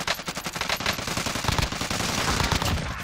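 Rapid submachine-gun fire in a Call of Duty Warzone match sounds as dense, fast bursts of shots, loud and continuous over several seconds.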